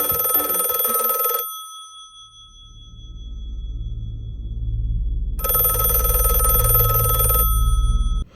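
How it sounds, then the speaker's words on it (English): A telephone rings in two loud, bright bursts of electronic ringing separated by a pause, with a low rumbling tone filling the gap and continuing underneath. "Looks like the phone is ringing."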